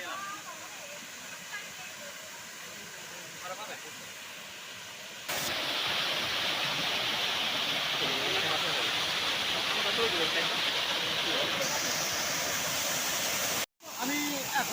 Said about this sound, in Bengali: আমার সামনে দেখতে পাচ্ছেন যে ঝর্ণাটি পানি গড়িয়ে পড়ছে